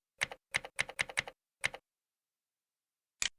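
Fingers type on a computer keyboard to search in a cloud console: a quick run of six close, crisp keystrokes, then a pause before one final tap, with no talking.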